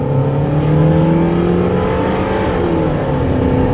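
A car engine roars at full throttle, its pitch climbing steadily with a brief shift partway through, loud and close with no talking.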